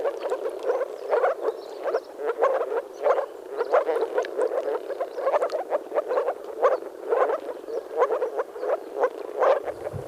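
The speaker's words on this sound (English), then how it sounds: "The bright blue frogs, making loud noises, congregate in the shallows among the flooded grasses and rushes." A dense chorus of bright blue frogs calls loudly from shallow, flooded grasses and rushes, with rapid, overlapping croaks pulsing steadily and close throughout.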